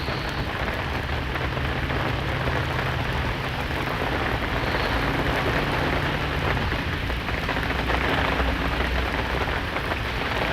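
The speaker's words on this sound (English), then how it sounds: "not run-of-the-mill thunderstorms like what we're getting right now" Steady rain pours onto surfaces during an ordinary, non-severe thunderstorm, a dense continuous hiss with low rumbling underneath that may be distant thunder, holding at a constant loudness throughout.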